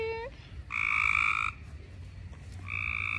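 Frogs croaking loudly at the edge of a backyard pool at night, with a few sustained, buzzy calls that stop and start. One long call runs near the microphone, and fainter croaks overlap it against a low background rumble.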